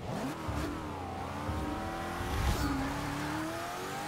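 A Hennessey Venom launches off the line in Forza 6 with a wheelspin drag build, its engine roaring and climbing in pitch through the gears with tire squeal, loud and continuous.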